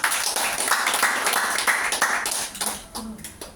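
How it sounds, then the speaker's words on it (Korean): Audience applause at a health seminar, dense steady clapping from a crowd lasting about two and a half seconds before thinning out and fading. "박수 한번."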